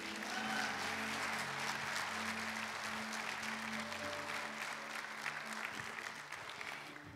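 A church congregation applauds steadily for several seconds, the clapping dense and continuous before gradually easing off.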